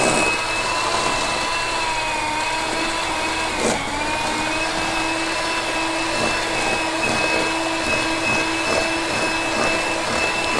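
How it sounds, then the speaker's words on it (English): An electric mixer whirs steadily while mixing ingredients with sugar, a loud continuous motor whine with a constant tone that holds for the whole stretch, with only a brief dip in pitch along the way. "We're just going to take our mixer and we're going to mix that together."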